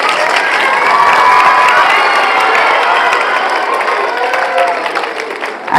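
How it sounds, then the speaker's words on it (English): Students at a school's final assembly clap and cheer for their principal, loud and close, with excited shouts and children's voices over continuous applause that fades slightly toward the end. "So please clap for our honorable principal sir."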